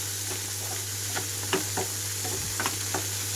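A spoon stirs a chaat of bobbarlu (black-eyed beans) with chaat masala in a pan on low flame, with soft scraping strokes at irregular intervals over a quiet, steady sizzle and a constant low hum.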